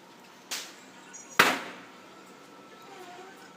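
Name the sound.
firecrackers bursting outside during Karva Chauth evening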